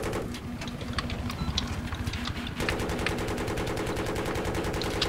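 Helicopter rockets launched in Battlefield 3 pound out in a fast, continuous rhythmic stream over a steady rotor drone, close and loud, with the pulses becoming denser in the second half.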